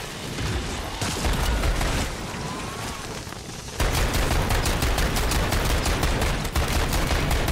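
Automatic gunfire aimed at a mimic in Modern Warfare Zombies, a loud continuous stream of rapid shots with a brief change partway, then a faster, denser, rhythmic burst, heard alone without talk.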